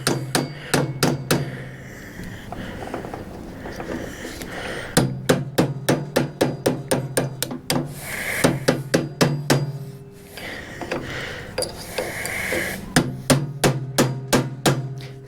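A dead blow hammer drives a part out of an Ariens ST824 snow thrower. Close, loud strikes land in quick bursts of several blows, with short pauses and a little scraping between the groups.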